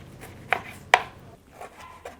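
A knife cuts narthangai citron into pieces on a board, two sharp distinct chops followed by a few softer taps, close and otherwise quiet.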